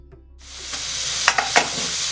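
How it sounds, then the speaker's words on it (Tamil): Chopped onions hit hot groundnut oil in a pan with a sudden sizzle that swells into a steady hiss, with a few sharp spatter pops near the end; no voices. "வெங்காயம் ஒரு நல்லா 2 to 3 minutes வதக்கினா போதும்"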